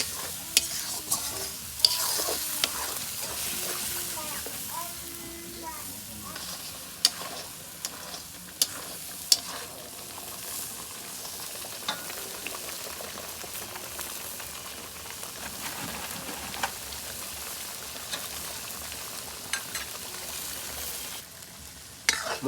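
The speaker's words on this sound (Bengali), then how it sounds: "মশলা আমার কষানো হয়ে গেছে" A masala of onion, garlic, tomato and ginger sautéing in a pan for a dal dish, giving a dense, continuous sizzle with scattered scraping stirs and small crackles throughout.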